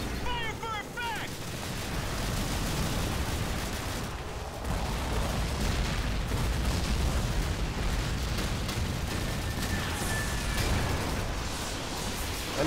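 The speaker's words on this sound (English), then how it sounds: "I'm pretty sure that would be shelling from a cruiser." Artillery shelling from a cruiser in the Call of Duty 2 video game, at Pointe du Hoc: a steady, heavy roar of explosions and gunfire with rumbling booms throughout, and a voice speaking over it.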